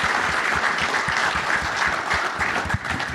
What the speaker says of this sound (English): Please join me in giving our panel a big round of applause.